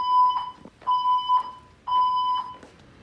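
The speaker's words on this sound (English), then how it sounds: "The fire alarm system has been activated." A fire alarm system sounds during a bell test, sending three repeated electronic tones, each lasting about half a second to a second, loud and close with short gaps between them.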